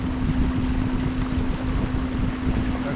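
An 86 lb thrust electric dinghy motor on a 24-volt battery system runs at full speed from a small boat, giving a steady, even whine with a constant hum over water and wind noise, close up and alone.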